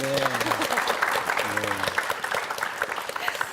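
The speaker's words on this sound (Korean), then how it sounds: "박수 쳐야겠네요" A room full of people clapping steadily, with a voice talking over the applause at the start.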